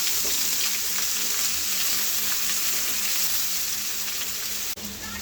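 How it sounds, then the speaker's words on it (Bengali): Chopped onion sizzles in a pan while being stirred for a banana flower dish, a continuous bright hiss with soft scraping, ending in a brief clatter near the end. "পেঁয়াজ কুচি দিয়ে আমি একটু নাড়াচাড়া করে নেব।"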